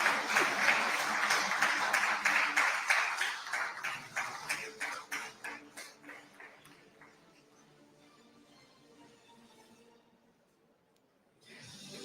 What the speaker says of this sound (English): You don't need to stop clapping